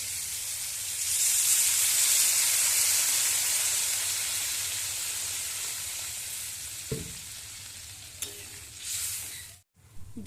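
Water hits fried spice paste in a pan for a Bengali small-fish curry, letting out a loud, continuous sizzling hiss of steam that slowly fades, with a few stirring knocks near the end.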